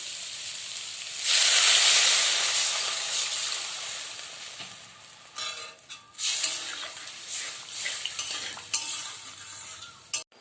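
Water hits a hot pan of frying spiced potato curry with a sudden loud sizzling hiss that gradually settles, followed by stirring and scraping of a utensil against the pan.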